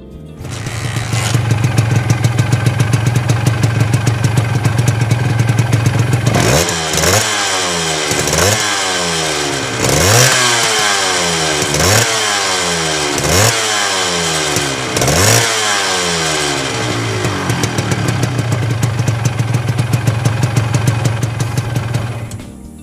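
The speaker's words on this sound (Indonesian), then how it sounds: "Versi yang kedua adalah Honda HX SS atau Super Sprint yang memakai transmisi 6 percepatan serta memakai knalpot model chamber atau kolong." A Honda HX Super Sprint motorcycle with a chamber-style exhaust idles steadily, then revs hard in about six sharp repeated throttle blips before settling back to a steady idle, loud and close with no talking.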